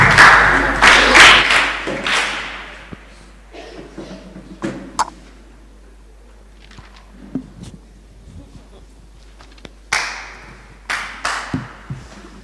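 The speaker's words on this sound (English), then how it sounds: "With a round of applause, please." Short bursts of audience applause at a high school debate between Lubombo schools, loud at the start, fading into sparse scattered claps and thumps, then rising briefly again near the end.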